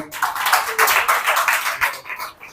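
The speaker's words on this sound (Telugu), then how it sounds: "చప్పట్లు కూడా దేవుడు స్తుతిద్దాం" A church congregation claps hands in praise during a sermon, a dense run of many hands applauding together for a couple of seconds before fading.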